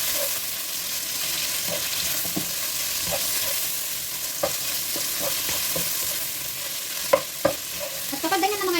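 Pork belly and milkfish (bangus) sizzle and fry in a pan while being stirred, with a steady hiss and intermittent scraping and clattering of the utensil against the pan, close and moderately loud.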